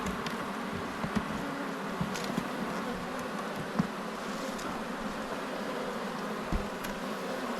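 Honey bees hum steadily around an apiary hive, a continuous low drone with occasional louder buzzes of individual bees passing close by, no talking.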